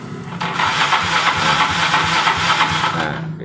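A Yamaha Mio 125 fuel-injected motorcycle engine is cranked with the starter, a steady close whirring churn that runs almost without break for a few seconds, loud and continuous.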